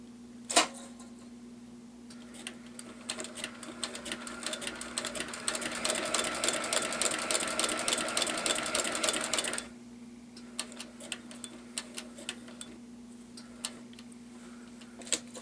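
Slickbald Class 4 sewing machine stitching rows, an isolated clunk, then about seven seconds of rapid rhythmic mechanical chatter, followed by slow scattered ticks as the machine winds down; close and fairly quiet, no speech.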